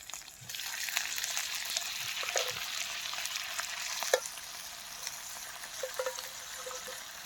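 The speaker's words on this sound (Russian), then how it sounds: "Вот слегка зазолотился лучок и добавляю туда грибы." Sliced fly agaric mushrooms hit a pan of lightly golden onions and fry with a continuous soft sizzle, dotted with small pops and a few sharper crackles as they settle in.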